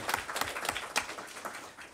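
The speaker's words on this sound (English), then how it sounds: "You can clap for that." Sparse, scattered clapping from a small group at a school board meeting, a handful of distinct claps spread over two seconds, fairly faint and thin.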